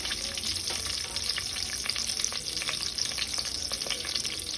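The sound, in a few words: whole spices frying for veg biryani gravy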